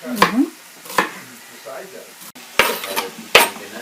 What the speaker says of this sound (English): More onions in. So everything is cooking.